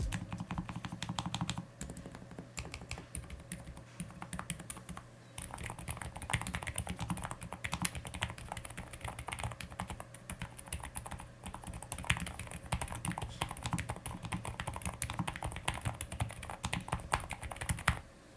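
Steady, continuous typing on a NuPhy low-profile mechanical keyboard, with dense rapid keystrokes running the whole time at a close, even level and no voices.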